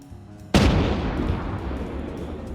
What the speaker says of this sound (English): The tank is trying to shoot you down with this main gun.